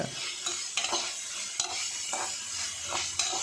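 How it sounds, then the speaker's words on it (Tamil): Soaked moong dal and onions sautéing in a pan, a bright continuous sizzle broken by repeated scraping strokes of a spoon stirring, close and alone. "அந்த சிறுபருப்பு போட்டு நல்லா மிக்ஸ் பண்ணுங்கள்"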